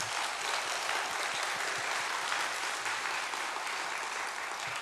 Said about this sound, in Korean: 우리 최 목사님께 우리 박수로 감사 인사하겠습니다.